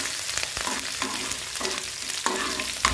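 Chopped small onion, dry chili and curry leaves fry in a pan with a steady, close sizzle, broken by several scraping stirs over three seconds.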